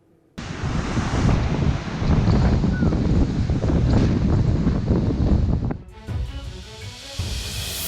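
Strong wind from Storm Erik in the UK roars and buffets the microphone in a steady loud rush, then drops abruptly to a lighter, gustier blowing for the last couple of seconds.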